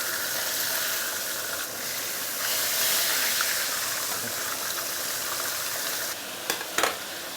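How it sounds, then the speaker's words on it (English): Steady sizzling and crackling of a chili-paste-stuffed fish pan frying in hot oil, close and fairly quiet, with a couple of brief clinks near the end. "So this is after pan frying one side for about 1 minute plus."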